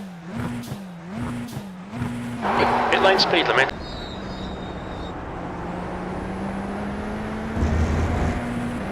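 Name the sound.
Radical SR10 race car turbo sounds in iRacing video game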